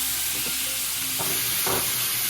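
Beef sears in garlic-infused oil in a pan over high heat, giving a continuous, close hissing sizzle with a couple of brief stirring scrapes.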